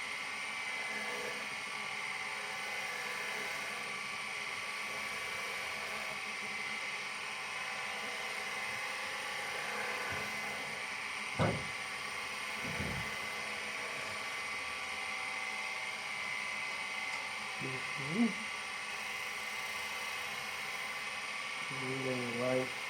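A wood lathe turns a small snowman Christmas ornament, making a steady close whirring hum through the whole stretch as a light finishing pass is cut, with a few short knocks and scrapes along the way.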